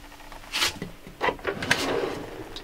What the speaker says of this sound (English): With soft closing on that drawer.